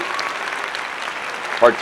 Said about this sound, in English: Big round of applause there if you got it